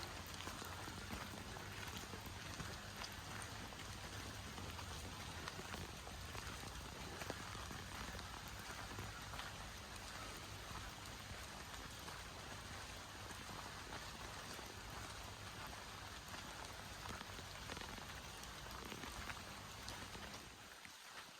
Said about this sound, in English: It's raining on us today,